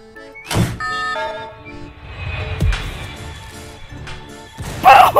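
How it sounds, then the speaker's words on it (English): A bomb goes off in the Roblox game Slap Battles: a loud blast near the start, then a heavy thud mid-clip and another crash at the end over game music and tones. "I just send the bomb there, it goes over there, and it goes kablooey"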